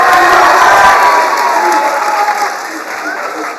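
Audience applause and some cheering for TJ Reed, a senior on a school quiz-style game show, a loud dense burst of clapping that starts full and slowly thins out, with a voice talking over it.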